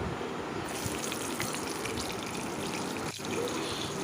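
Nigella seeds and green chilies sizzle in leftover fish-frying oil, a steady, close crackling hiss that carries on unbroken, with no one talking.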